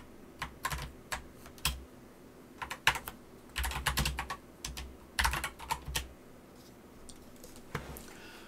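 Someone types code on a computer keyboard for Amstrad CPC game development. Quiet, close keystrokes fall in short irregular clusters separated by pauses, with no one speaking.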